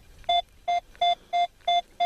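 A metal detector sounds a steady signal while searching for gold and old relics, giving six short, evenly spaced beeps of the same pitch, clear and close, with no talk.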